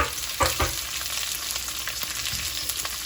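Onions sizzle in a thin layer of oil with red and green chili for a mutton curry, a steady frying hiss with a couple of sharper crackles near the start and light stirring clicks.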